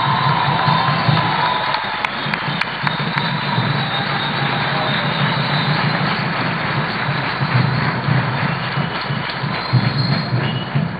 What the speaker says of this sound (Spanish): Por eso pido para ustedes un gran aplauso.